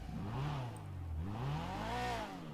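A video game car engine revs up and down continuously, its pitch rising and falling in smooth sweeps, steady and fairly loud throughout.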